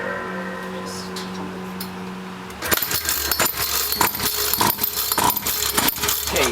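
A homemade RC chainsaw motor kicks into a loud, buzzing run after a quieter start, racing close by with rough revving pulses as people talk nearby.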